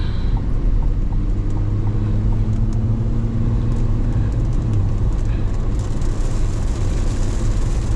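A C8 Corvette driving through rain in Florida traffic, a steady low engine and road rumble with hiss of wet tires, a faint rising tone midway, and light spatter throughout.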